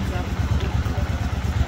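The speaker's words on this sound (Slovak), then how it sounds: "Nebezpečná motorka." A motorcycle engine chugs in a steady, rapid low pulse close by, loud and continuous throughout.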